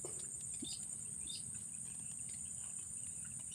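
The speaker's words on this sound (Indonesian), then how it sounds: "Jangkrik." Crickets chirp in a steady, continuous high-pitched trill in an outdoor setting during a bird hunt, with faint low background rumble throughout and no talking.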